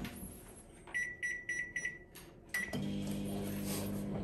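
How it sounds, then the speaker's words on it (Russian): A microwave oven with its door shut as it starts up: a string of short electronic beeps, then a steady low hum as it begins running. "Отправляем это все в микроволновку и ждем"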